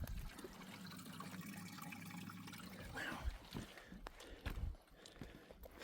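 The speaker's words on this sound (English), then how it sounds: "Still impresses me to see water just kind of come out of nowhere." Spring water trickles and spills steadily out of a mountainside along a trail, a continuous close splashing wash with scattered knocks and clatters toward the end.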